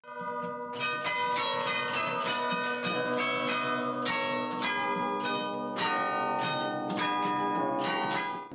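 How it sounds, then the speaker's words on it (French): Old carillon bells dating from 1672 ring out from the Mons belfry, a steady stream of overlapping struck bell notes with long ringing tails, loud and alone without speech. "Ici à Mons, comme c'est un vieux carillon qui date de 1672, la mécanique étant un peu fatiguée"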